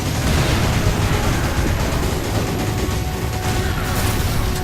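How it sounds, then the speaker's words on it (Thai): A dense, roaring blast and rumble fills the Resident Evil 5 game scene, loud and sustained with no break. "เออระเบิดละ"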